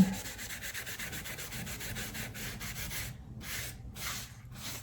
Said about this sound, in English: you don't want to scrub hard either because these magic erasers crumble, especially on shoes like this one